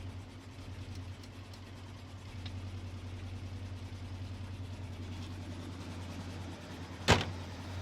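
A 1972 International Scout pickup engine runs with a steady, low rumbling hum that barely changes in pitch or loudness, and a single sharp clack sounds near the end.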